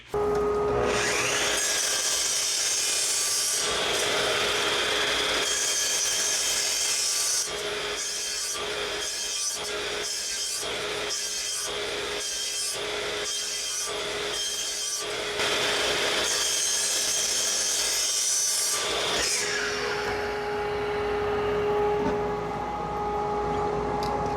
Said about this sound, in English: The only thing left to do is cut this 10 more times and see where all the dust goes.